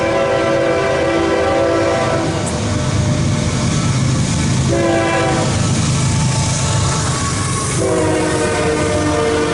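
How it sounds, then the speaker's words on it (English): A CSX empty coal train rolls past at night, its continuous loud rumble and wheel noise carrying repeated sustained horn blasts that sound close by. "Well, that's the first night train."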